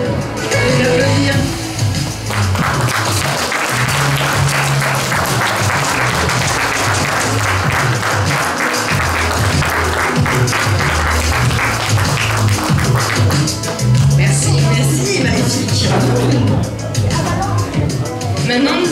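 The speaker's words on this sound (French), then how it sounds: "On peut l'applaudir." Audience applause for a cosplayer at a cosplay contest, loud sustained clapping with some cheering and crowd chatter mixed in, while a presenter's voice carries over it.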